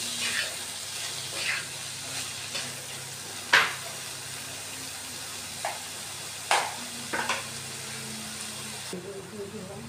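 Homemade paneer fries with spices in a pan, giving a steady sizzle throughout. Several sharp spatula or utensil clinks and scrapes punctuate it.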